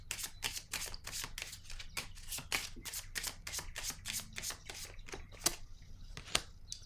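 Tarot cards riffle and shuffle close by in quick, rustling bursts with sharp snaps, steady and unbroken, quiet overall, with no voice heard.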